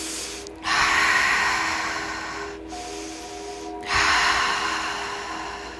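Two long, loud breaths during guided alkaline breathwork: each is a strong, hissing inhale that swells suddenly and then fades gradually, with a short quiet pause between them, heard close and without talk.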